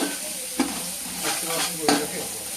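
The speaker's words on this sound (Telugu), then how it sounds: "అది కూడా ఒక 2 నిమిషాలు వేపుకోవాలండి." Ingredients for a chicken dum biryani frying in a pan, stirred as they cook: a soft, steady sizzle with a few scraping stirs, alone and fairly quiet.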